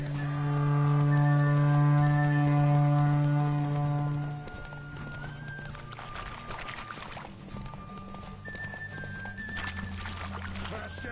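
Racing horse in The Witcher 3, a rhythmic clip-clop of hooves at speed under a sustained musical drone that fades after a few seconds, leaving the steady hoofbeats and game ambience.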